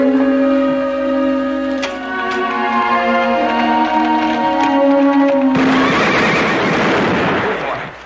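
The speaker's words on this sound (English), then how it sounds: "You trying to scare this horse half to death?" A horse whinnies with a long, loud, close neigh, followed by a burst of hoof and scuffling noise in a Western television drama scene.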